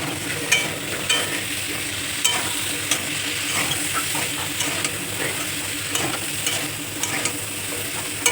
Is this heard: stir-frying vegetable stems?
yes